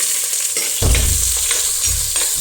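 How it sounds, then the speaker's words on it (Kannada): Onion, ginger, green chillies and curry leaves fry loudly in a pan, a close, steady sizzle broken by a few stirring scrapes and bursts of stronger crackle. "ಸ್ವಲ್ಪ ಹೊತ್ತು ಫ್ರೈ ಮಾಡ್ಕೊಳ್ಬೇಕು"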